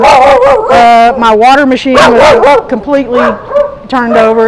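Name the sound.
dogs barking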